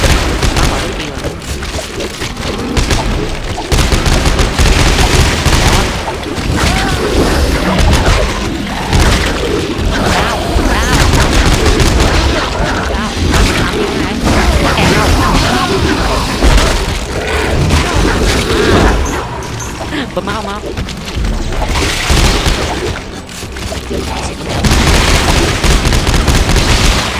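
Heavy, continuous gunfire and booming blasts in the Dead Space 3 video game, loud and dense throughout, with a voice talking intermittently underneath.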